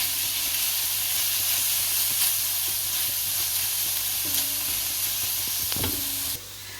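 Onions and tomatoes fry steadily in a pot for a Trinidadian lentil stew, a constant close sizzle and hiss with a brief stir or clink near the end before the sizzle drops off.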